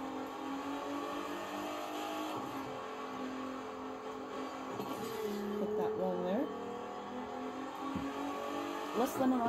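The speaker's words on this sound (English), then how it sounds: "Stuck behind some traffic cars." Engines of traffic cars hum and rise on a road in The Crew 2 at evening, with a few swelling revs and passes, moderately quiet and steady.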